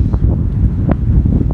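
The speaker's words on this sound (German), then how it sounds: "es windet so stark, ich hoffe, ihr hört mich noch überhaupt" Strong wind on the Tunisian coast roars and buffets the microphone continuously, a rough low rumble with brief gusty flutters.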